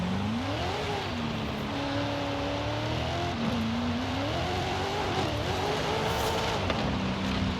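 A 2000 Nissan Silvia drag car with a 1,000-horsepower tune in Forza Horizon 5 drones loudly and steadily, its engine pitch rising and falling through gear changes as it drives without any talk.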